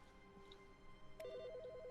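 A telephone rings in The Stanley Parable video game. After a quiet stretch of low ambient hum, a soft electronic trill begins about midway and warbles steadily between two pitches.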